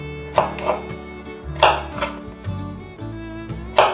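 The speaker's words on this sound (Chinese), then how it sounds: "可以在红萝卜片上做一些变化，切一些花纹" A kitchen knife cuts decorative patterns into carrot slices on a board, a run of crisp, close chops at uneven intervals with light knocks in between.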